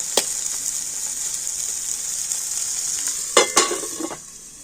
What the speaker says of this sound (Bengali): এইভাবে ঢাকা দিয়ে দিয়ে না কাঁকরোলগুলো আমি খুব সুন্দর লালচে করে একটু ভেজে নেব